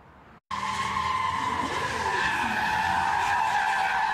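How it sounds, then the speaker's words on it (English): Cars do donuts at the Duarte Road and Baldwin Avenue intersection in Arcadia during a late-night street takeover. After a brief cutout, a loud, sustained tire screech and skid rings on without pause. "cars doing donuts in the intersection of Duarte Road and Baldwin Avenue"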